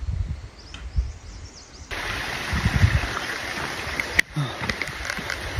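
A stream flows outdoors on a mountain trail with a steady broadband rush of water, fairly loud and close, joined by brief clacks and a sharp knock.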